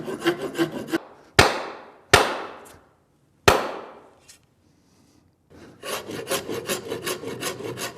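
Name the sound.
filing the edge of an axe head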